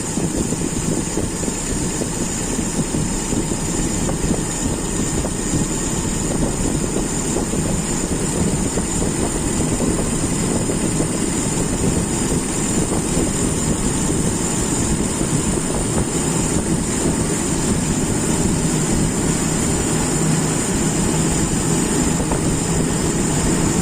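A car engine with a carburetor runs at a steady, loud idle throughout while its RPM setting is adjusted, a dense continuous rumble and whir with no pauses or speech.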